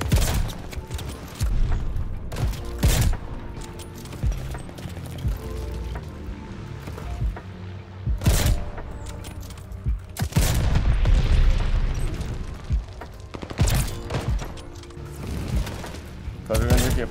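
Video game gunfire from a weapon aimed with iron sights: several loud bursts of shots in an irregular rhythm, with mechanical clatter and voices talking around them.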